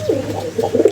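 Nesting pigeons, pairs currently laying eggs, coo in low, throaty, rolling bursts close by, repeating several times over a steady background hum.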